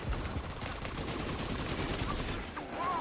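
Dense, continuous bursts of video game gunfire from a sniper turret rattle steadily with no gaps, loud and close, with faint voices mixed underneath.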